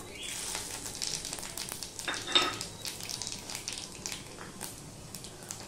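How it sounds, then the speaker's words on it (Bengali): Bay leaf, panch phoron and dry chillies crackle softly in hot oil, a faint continuous sizzle punctuated by a few light clinks of a utensil against the pan. "এবারে এখানে দেখো তেজপাতা, পাঁচফোড়ন আর শুকনো লঙ্কা ফোড়নে দিয়ে দিলাম।"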